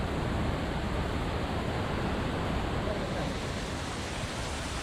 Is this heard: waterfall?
yes